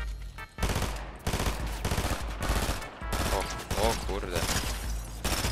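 Rapid gunfire from an enemy shooting down from above in a first-person shooter game, dense bursts and shots filling most of the stretch, with a voice briefly exclaiming over it.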